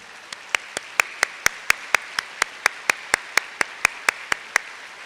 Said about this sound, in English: stand up quickly, and we'll give you a round of applause.